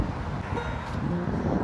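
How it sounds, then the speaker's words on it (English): Strong wind outdoors, a dense, continuous roar of gusting air buffeting close to the microphone for the whole stretch, with no other clear sounds. "It's so windy today"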